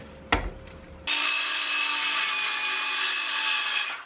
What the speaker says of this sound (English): I'm gonna cut this off and then sand it.